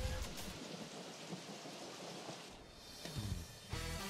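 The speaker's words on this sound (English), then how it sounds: "Why is it raining?" Steady rain in Super Mario Odyssey's New Donk City pours throughout with a deep rumble of thunder rolling underneath, swelling louder near the end.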